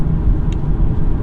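A hybrid car cruises at about 50 miles an hour on battery power, heard from inside as a steady low road rumble with tyre noise and no engine note.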